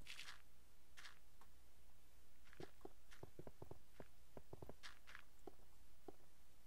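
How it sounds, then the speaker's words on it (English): Minecraft footsteps crunch in a quick, uneven run of soft steps, some clusters suggesting more than one walker, over a steady low background hum with a few brighter scrapes. "I can't tell whether I'm hearing more than one set of footsteps"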